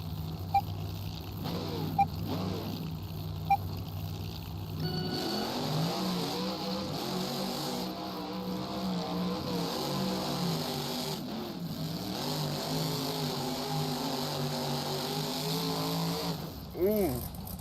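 Monster trucks rev at the start line of an indoor arena event, a long steady engine drone with rising roars, with an announcer talking over it throughout.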